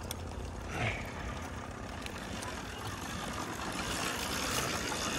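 A motorized bicycle's small engine idling as it warms up, giving a steady, even drone that holds at a constant level without revving, with no talking.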